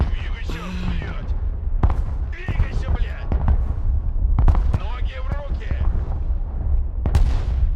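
Heavy artillery in the video game Broken Arrow fires a series of deep booms at irregular intervals, some close and loud, others distant, mixed with sharper gunfire cracks and game sound effects.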